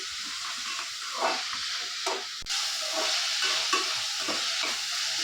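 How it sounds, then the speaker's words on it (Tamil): Green chilies and ginger sautéing in a pan, a steady loud sizzle with stirring scrapes throughout, close and with no voices. "போட்டு கொஞ்சம் நல்லா வதக்கணும்"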